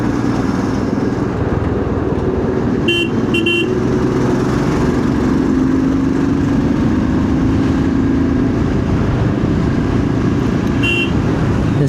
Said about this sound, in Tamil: என்ன ஒரு டிராஃபிக்குப்பா, டிராஃபிக்கு